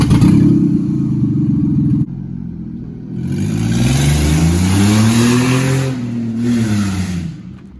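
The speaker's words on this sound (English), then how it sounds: "you can hear that my car was really loud. It was dumping the exhaust right out the header." A loud V6 Ford Mustang with an exhaust leak at the header starts with a rough idle, then revs up and back down in two rising and falling pulls, its raspy, blatty exhaust sounding close by.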